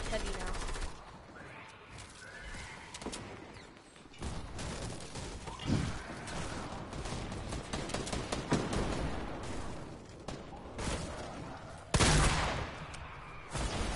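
Video game combat with rocket-propelled grenade launches and dense gunfire: repeated bursts and rattling volleys, a sharp blast near the end, continuous loud battle noise throughout, with talk in places.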